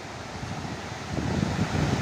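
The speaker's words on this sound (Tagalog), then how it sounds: "At may alon" Waves roll in on a beach under a stormy, gusty morning sky, a steady low wash of surf that swells louder in the second half, mixed with wind buffeting the microphone.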